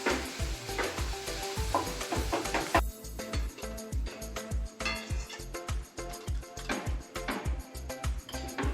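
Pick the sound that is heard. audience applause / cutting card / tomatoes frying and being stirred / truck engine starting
tomatoes frying and being stirred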